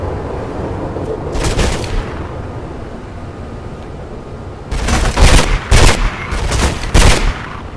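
Gunfire in the game Mirror's Edge: a short burst of shots, a pause, then several loud rapid volleys in close succession, sharp and near.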